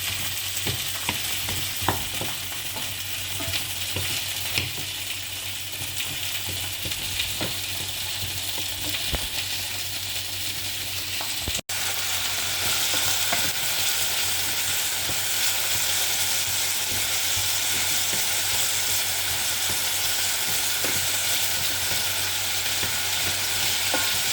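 Vegetables sautéing for a Filipino vegetable soup, with ginger dropped into the pan, give a steady close sizzle and hiss, broken by a brief sharp knock midway and continuing slightly louder afterward.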